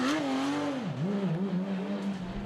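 Porsche 911 GT3 Cup race car engine firing back up after a stall and pulling away at Spa, a loud, close, tonal engine note that dips briefly before climbing steadily as the car drives off.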